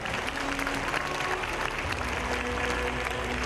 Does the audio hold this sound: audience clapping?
yes